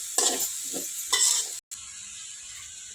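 Cabbage and tomato with masala sizzling in a pan as a spoon stirs and scrapes through it, two bursts of scraping over a steady close frying hiss with a brief cut in the middle.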